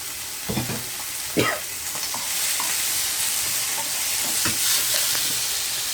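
Tomatoes fry with onion and pepper in a pan, giving a continuous sizzle with several sharp spatula scrapes and stirring clatters close up, and no talking.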